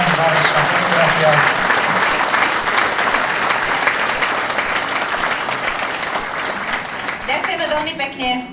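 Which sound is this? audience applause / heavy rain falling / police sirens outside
audience applause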